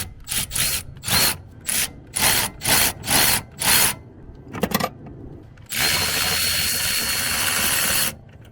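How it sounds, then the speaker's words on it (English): A ratchet with an extension and a 12mm socket works nuts off the master cylinder of a Toyota Land Cruiser FZJ80 during a brake booster replacement: a run of short, loud rasping bursts, then a longer steady rattle, heard up close. "use the ratchet extension and 12mm socket to get the nuts out"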